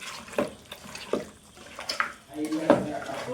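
Pieces of meat are washed and kneaded by hand in a bowl of water, giving several close, wet splashing swishes at irregular intervals.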